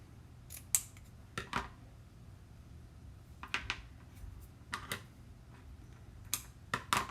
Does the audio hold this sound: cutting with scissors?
yes